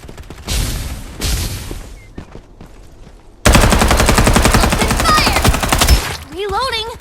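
Gunfire in the battle game Farlight 84: rapid automatic bursts from an SMG, loud and close, with a long sustained stretch of rattling fire, sharp chirping effects near the end, and a voice speaking over the early shots.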